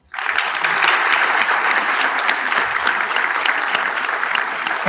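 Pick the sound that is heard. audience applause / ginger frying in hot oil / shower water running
audience applause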